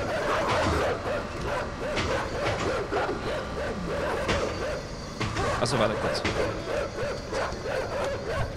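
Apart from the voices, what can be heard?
dogs barking in the video game INSIDE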